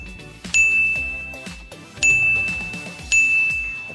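Three bright notification bell dings ring out at regular intervals, each with a sustained high tone that decays slowly, loud and alone over a faint musical bed.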